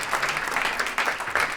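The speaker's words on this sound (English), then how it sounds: "Big round of applause." Dense, steady clapping from an audience welcoming two volunteers onto a stage at an arts event, sustained and fairly close throughout.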